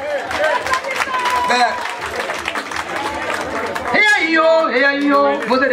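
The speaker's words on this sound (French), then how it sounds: "On les applaudit très fort." Loud applause at a retirement party for a man's children and grandchildren, a thick wash of clapping from a crowd with chatter mixed in, followed by a voice talking over the clapping near the end.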